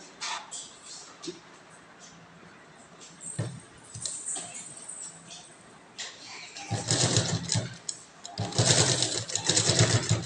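A sewing machine stitches a velvet blouse, quiet handling and faint clicks at first, then loud close bursts of rapid mechanical whirring in the second half, with a brief pause between runs.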